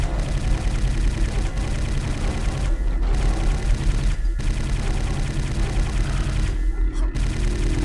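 Rapid nailgun fire at fiends in Quake, a continuous loud mechanical stream of shots with brief pauses, over a constant game drone.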